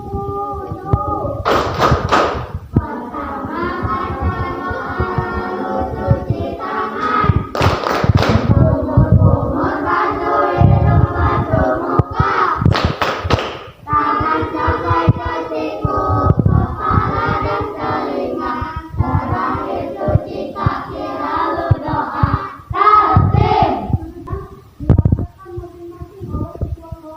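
Students in a classroom perform the tepuk punduk clapping routine, with rhythmic bursts of group claps and thumps alternating with chanted voices, loud and close, pausing briefly near the end.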